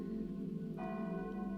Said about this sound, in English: a beautiful sounding bell